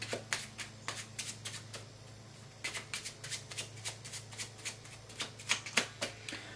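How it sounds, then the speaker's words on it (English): A deck of playing cards is shuffled close up and quietly, with a series of crisp riffling bursts and flicks in uneven clusters, without any talk. "now we have the deck nice and shuffled up"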